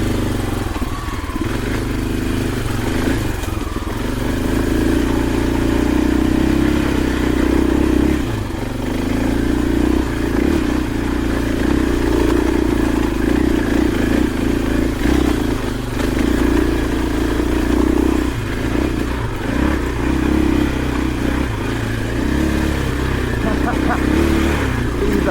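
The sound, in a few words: 2024 KTM 500 EXC-F dirt bike riding on Dunlop D606 tires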